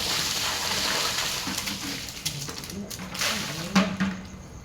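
Water is poured over a dog during its bath, a rushing, splashing gush that swells and fades, with people talking over it.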